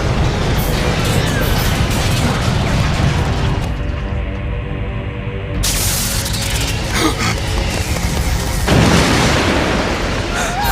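Cartoon cannon fire and explosion, a loud sustained roar of blasts and crashes with a brief lull, then another heavy burst near the end.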